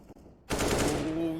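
Gunfire in Counter-Strike during an ESL Pro League match, a quiet lead-in followed by a loud sustained burst of rapid automatic fire lasting about a second, with a tonal game sound underneath.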